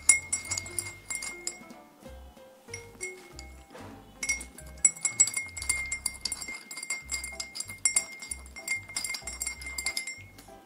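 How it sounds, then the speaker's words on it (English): A spoon stirs salt and sugar into a lemon drink in a glass, making quick, repeated light clinks against the glass over soft background music. "Until the salt and sugar completely dissolves, mix it."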